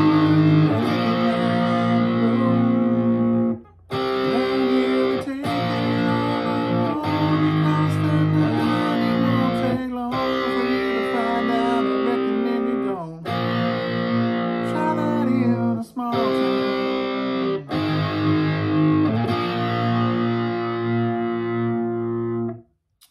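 A distorted electric guitar plays a song, with loud sustained strummed chords in bursts separated by short gaps, alone without talk.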